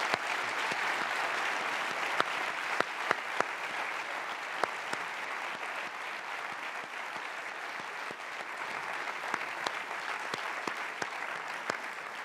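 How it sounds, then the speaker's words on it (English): Sustained applause from a lecture audience on a corporate campus fills the whole stretch, a steady even wash of many hands with a few sharper individual claps standing out, moderately distant and without talk. "And once more, a nice applause to you."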